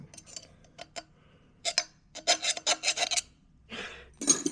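Metal file rasping on a Honda Ruckus scooter exhaust in a series of short, loud strokes with brief pauses between, close by and without talk.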